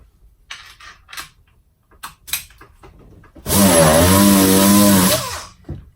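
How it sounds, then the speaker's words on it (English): A loud, close Dynabrade random orbital sander pressed too hard runs with a strained, wavering motor tone that bogs down and labors under pressure, after a few light knocks and handling sounds. "Right away, you can hear the tool bog down and it's not real happy."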